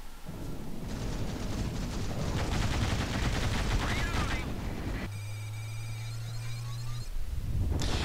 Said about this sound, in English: I showed that part just because tank shots look cool.